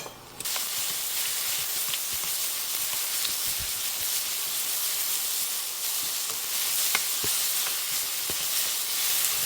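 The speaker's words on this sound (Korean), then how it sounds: "식용유를 두르고 숨만 죽이면 되니까 빨리 볶아내는 거예요" Carrot and onion stir-fry in oil over high heat, a loud, steady close-up sizzle that hisses without pause, with occasional faint clicks of a utensil against the pan.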